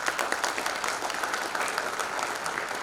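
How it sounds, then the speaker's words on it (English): An audience at a literature festival breaks into a big round of applause, a dense, even roar of many clapping hands that stays steady throughout with no voices over it. "Can you give him a big round of applause?"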